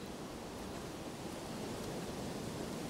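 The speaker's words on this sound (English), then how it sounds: "pardon me if you can hear the noise of the wind" Wind buffets an outdoor microphone on a windy day in a garden after planting, a steady loud rumbling roar of broadband noise with no speech.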